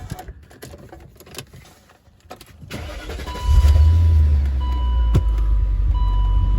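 A 2003 BMW E39 540i V8, just back from a fuel pump repair, cranks and catches around midway, then settles into a loud, steady idle that rumbles close by.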